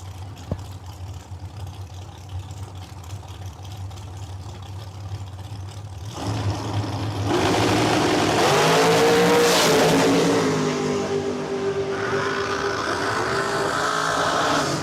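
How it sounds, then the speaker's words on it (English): Two drag racing cars, a digger dragster and a car called the Green Machine, launch at Cordova Dragway during an Independence Day event. A quiet rumble breaks into a loud, sustained engine roar that stays thick and harsh to the end. "The Auto Tech Digger belongs to Zach Halverson, taking on Eric Pavicic"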